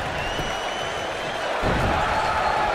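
A steady, dense crowd roar fills the arena in the PC wrestling video game WWF Royal Rumble, holding at an even level throughout and swelling slightly near the end.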